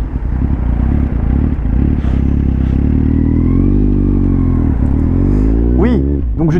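A Kawasaki Z 750 R motorcycle with a loud aftermarket exhaust rumbles nearby, rising through revs and crackling, then snapping into sharp throttle blips near the end while someone talks excitedly over it.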